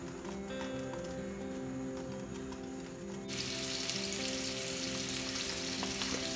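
Onions hit coconut oil in a pan and begin to brown. A low, busy bubbling gives way partway through to a sudden loud, steady hiss of frying that continues to the end without speech.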